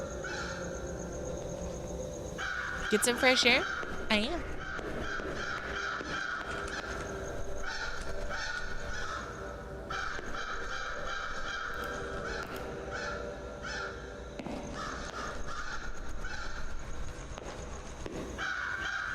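Crows caw repeatedly in a video game scene, harsh calls over a steady ambient background, with a louder burst near the start and brief spoken words partway through.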